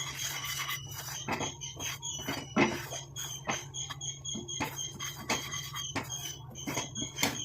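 Dry leaves being roasted and stirred in a pan over a stove for homemade hair dye give off steady, repeated scraping and rasping strokes, close and fairly quiet, with no voices.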